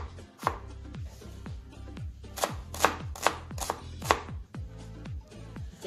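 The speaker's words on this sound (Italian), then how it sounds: "intanto tagliamo la cipolla." A knife chops an onion on a cutting board in a kitchen, producing a brisk series of crisp, close knocks at an uneven rhythm, with some strokes louder than others.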